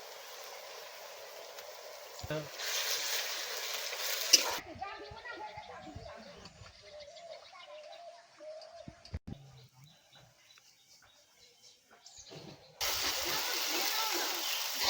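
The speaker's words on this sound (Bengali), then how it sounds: "রসুন ভাজা হয়ে গেছে আদাটা দিয়ে দেবে" Ginger and garlic fry in oil for a meat curry, a bright sizzle in two bursts at the start and end, while pigeons coo and a person speaks in the quieter middle stretch.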